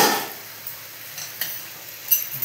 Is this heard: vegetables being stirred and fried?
yes